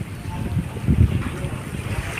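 Gusty wind rumbles and buffets steadily around a provincial outdoor kitchen, swelling into a stronger gust midway before settling back to a constant low roar.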